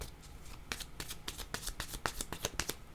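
A deck of cards is shuffled for a tarot-style reading, a run of crisp riffling bursts and rapid flutters repeating close up, with no talking over them.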